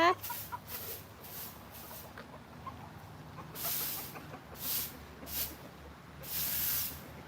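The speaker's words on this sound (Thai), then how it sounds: "นี่ไก่มาอยู่ข้างนอก นี่ลูก ไก่อยู่ข้างนอกค่ะ ไก่อยู่ข้างหน้าค่ะ" Chickens cluck outdoors at a resort, with intermittent hissing bursts over a low background; a person speaks faintly at times.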